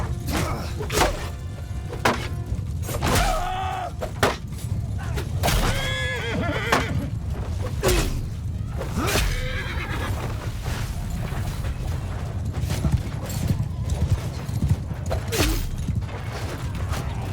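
Cavalry charges in the Mount & Blade II Bannerlord video game, with horses neighing and whinnying over a dense, continuous rumble of galloping hooves, thuds and battle clatter. The sound holds at a steady, busy level throughout, with no clear talk.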